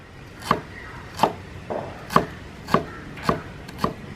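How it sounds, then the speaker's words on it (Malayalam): Ginger chopped finely with a knife on a board: six sharp, evenly spaced chops ring out up close and clear, with no talk. "ഇഞ്ചി നമ്മൾ കുനു തന്നെ അരിയുന്നു കേട്ടോ"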